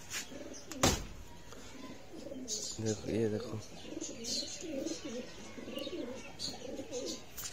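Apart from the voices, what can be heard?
pigeons cooing on rooftop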